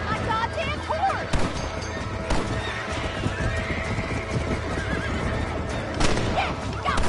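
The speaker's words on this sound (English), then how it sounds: "You shot my goddamn horse!" Horse neighs and whinnies in a western-style video game, with steady hoof clip-clop and gunfire-like bursts throughout; people talk over the game sounds.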